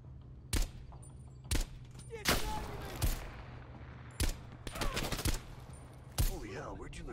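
Sharp gunshots from Call of Duty: Black Ops Cold War ring out in a loose volley of about seven loud cracks spread over several seconds, each followed by a brief decaying tail over a low steady background hum.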